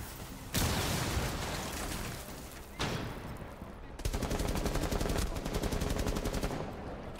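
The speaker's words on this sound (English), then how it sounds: "I'm gonna fucking shoot you in the foot, George." Gunfire from Rainbow Six Siege, a video game: loud bursts of automatic fire, with a long stretch, a second burst, then rapid rattling fire that continues to the end.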